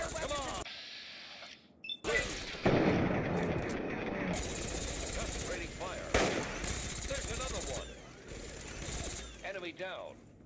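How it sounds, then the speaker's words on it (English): Gunfire in Fallout 3, with repeated bursts of shots and impacts in a chaotic firefight, loud and close, mixed with brief voices and other game effects over about ten seconds. "Opening fire. Come on. Concentrating fire."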